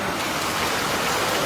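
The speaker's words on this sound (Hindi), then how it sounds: "बारिश मूसलाधार हो रही है इसलिए कुछ देर के लिए काम को रोका गया है।" Heavy monsoon downpour in Siliguri's Khalpara area pours down as a dense, steady hiss of rain on surfaces, loud and unbroken with no voices.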